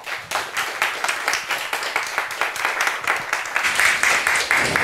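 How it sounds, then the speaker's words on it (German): Audience applause at a German hacker conference talk on post-quantum cryptography, a dense steady wash of many hands clapping that holds for several seconds with a slight swell toward the end, no voices on top. "Bitte begrüßt mit einem ganz, ganz großen Applaus"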